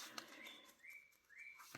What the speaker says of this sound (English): I love to hear the birds chatting, singing, whatever they're doing.